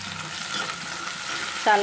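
Dried fish frying in a pan for a dry fish curry, a close, steady sizzle and crackle that brightens briefly near the end.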